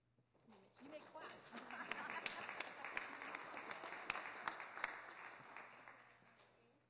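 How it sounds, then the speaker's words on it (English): Scattered clapping swells from a city council meeting audience at San Jose City Hall during a proclamation presentation, peaking mid-way with sharp individual claps before fading out, faint and somewhat distant. "You may clap."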